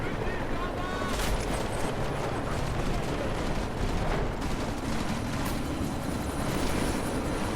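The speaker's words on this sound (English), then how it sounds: "you need to disable that chopper" Helicopter rotor chop from Deus Ex: Mankind Divided during a sandstorm, a dense, continuous loud roar mixed with gusting wind and distant gunfire-like bursts throughout.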